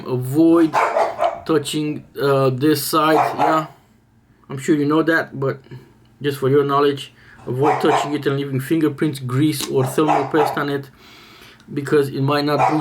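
A dog barks excitedly at the postman in the background, the barks partly masked by someone talking almost continuously in the foreground.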